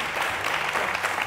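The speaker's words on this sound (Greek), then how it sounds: "Ένα χειροκρότημα για τα μεγάλα κορίτσια μας, τη Βασιλική από την Πάτρα." A studio audience on the Greek Wheel of Fortune game show claps in a short, dense burst of applause at moderate volume.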